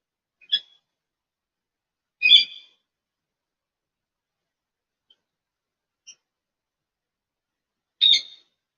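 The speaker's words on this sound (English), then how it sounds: "that noise is coming from my one of my birds here." A pet bird gives short, sharp calls indoors, four brief separate chirps spaced a second or more apart, faint and isolated amid silence.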